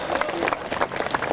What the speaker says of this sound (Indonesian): Tepuk tangan untuk Sarkana